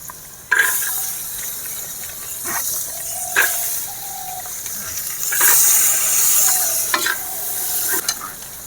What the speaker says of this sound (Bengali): গাজরটা ভাজা হতে সময় লাগবে ওই জন্য গাজরটা আগে দিচ্ছি